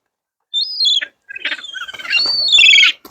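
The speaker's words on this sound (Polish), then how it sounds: "kochane ptaszki. Nie trzeba ich łapać," Small birds calling in short squawking and chirping bursts at close range, with a few brief pauses between calls, in a Polish setting near New York's World Trade Center.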